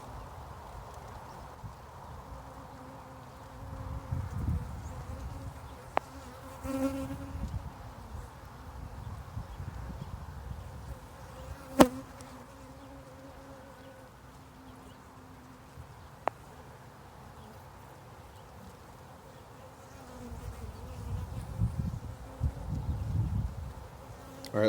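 Honeybees buzz in a hive around a newly introduced queen, a steady close hum with louder swells as individual bees pass near, plus occasional faint clicks.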